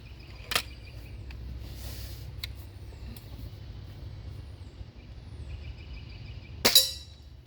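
A pellet from a Diana 240 air rifle, shooting about 5 to 7 foot-pounds, strikes a metal catch tray. Two sharp, bright impacts come about six seconds apart over a steady low outdoor hum, with the second one louder.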